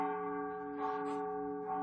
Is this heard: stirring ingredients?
no